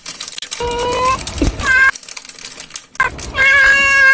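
A cat meows loudly and close by, several plaintive, drawn-out cries in a row with short pauses between them.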